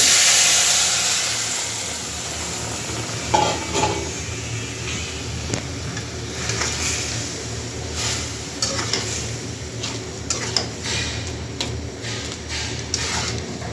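Malabar spinach rustles and sizzles in a hot pan with fried garlic while being stirred, with scraping clicks and a steady frying hiss throughout.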